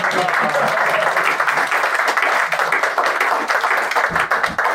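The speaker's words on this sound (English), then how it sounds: "Could you come to the front, please, sir? Round of applause." An audience in a room gives a steady, dense round of applause for a man called up to the front at a live podcast recording, the clapping sustained and even throughout.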